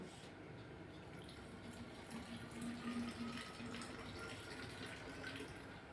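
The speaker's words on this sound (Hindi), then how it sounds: "ये पानी मैं इसमें रख रहा हूँ, कर रहा हूँ।" Water pours into a container, with a faint continuous trickling and gushing beneath a low background hum.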